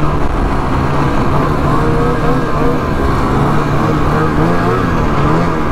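A snowmobile engine revs hard and steadily as the sled lifts its front end in a wheelie on a snowy trail, a loud, continuous roar close to the microphone with no pauses.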